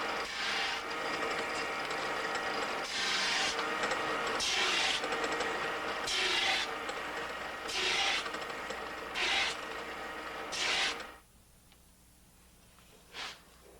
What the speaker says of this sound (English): Rough polishing removes surface impurities and flattens the blade.